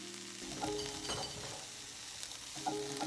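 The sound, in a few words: tofu and cabbage frying in a pan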